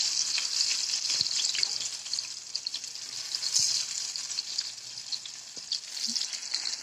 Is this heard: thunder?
no